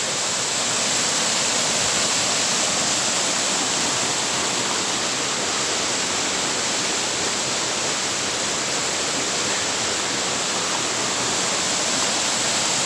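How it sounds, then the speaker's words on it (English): A waterfall on a hillside above Loch Tummel roars in a constant, dense wash of falling water, loud and unbroken throughout with no voices. "There is a series of beautiful waterfalls up this hill."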